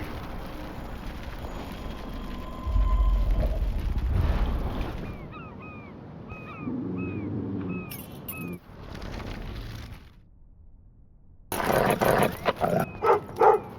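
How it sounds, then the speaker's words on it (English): A dog in the video game Life is Strange Remastered barks and whimpers amid game ambience, with repeated short bird-like chirps and shifting background sounds across the scene. "The doggy is busy now, but he might come back."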